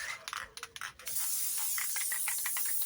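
Elmer's Craft Bond adhesive sprays from an aerosol can onto paper as a steady close hiss, after a few short clicking, rattling handling sounds at the start.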